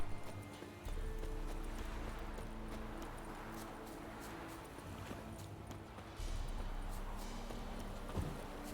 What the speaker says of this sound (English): I heard Novigrad horse.